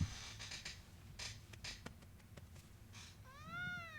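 A cat lets out a single rising-falling meow near the end, quiet and close, after a stretch of faint rustling and light tapping sounds.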